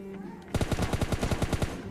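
Rapid automatic gunfire from the mobile game PUBG Mobile Lite bursts in after a brief quiet start, firing about a dozen evenly spaced, loud, punchy shots.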